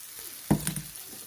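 Potatoes tipped into a pan of reddened spice masala for a Bengali catfish curry, a sudden sizzle burst that settles into a steady, soft frying hiss close by.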